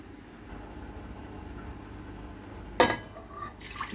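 Water poured into a pot to boil lemon and ginger, a brief splashing gush near the end rising over a quiet room hum, followed by a short clatter.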